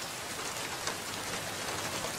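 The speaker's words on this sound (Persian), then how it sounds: "زیر این بارون نگه میشه خوابید؟" Steady rain pours down on a surface at night, a dense even hiss of many drops, close and continuous with no voices or thunder.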